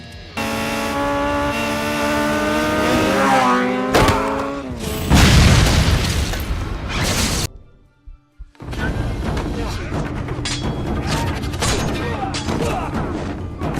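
Action-film motorbike chase with cars in a Tom Cruise movie: loud roaring engines, booming impacts and tire squeals over dramatic music, a brief near-silent drop around the middle, then the chaotic engine and crash noise resumes.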